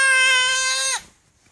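A child imitates a sheep's bleat with a single sustained, wavering, nasal "baa" lasting about a second, close and loud, then cutting off into quiet.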